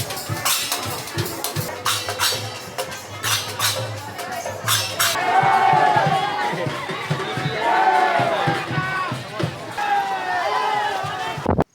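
A packed, noisy crowd at the Rath Yatra chariot festival roars and shouts steadily, with sharp percussive cracks early on and a person talking over the din.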